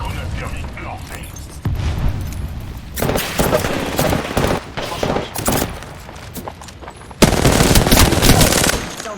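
Rapid automatic gunfire in the video game Apex Legends rattles out in loud, repeated bursts of varying length, the heaviest near the end, with a voice speaking now and then underneath.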